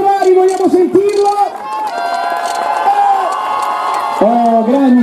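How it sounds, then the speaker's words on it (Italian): A crowd in Piazza Ferrari at the 2017 Veglia carnival cheers loudly, with voices whooping and shouting over a constant roar of applause and excitement. "l'applauso di Piazza Ferrari, vogliamo sentirlo?"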